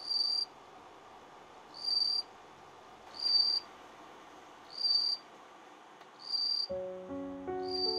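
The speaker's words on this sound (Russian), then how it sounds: "Сверчок-колокольчик создает свою уникальную музыкальную гармонию, потирая маленькие скребки на крыльях." Bell cricket chirps ring out in regular bursts about once a second, clear and steady, with a soft background hum and a rising tonal chime near the end, made by rubbing scrapers on its wings.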